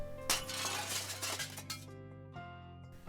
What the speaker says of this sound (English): I smashed the window.